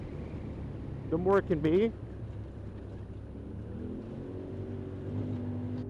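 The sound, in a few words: Polaris RZR XP Turbo engine revving during drive belt break-in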